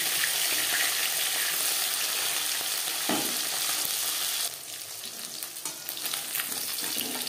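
Bata fish fries in oil in a kadai, giving a loud, even sizzle, then a brief clatter as a piece is flipped and a sharper crackling takes over.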